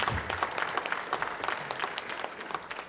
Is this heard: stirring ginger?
no